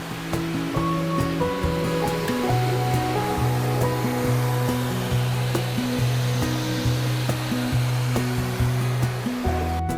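A pressure washer blasts algae off the wet wall cooling pads in a greenhouse: a steady, close rushing hiss of spray that runs the whole time beneath a tonal musical backing.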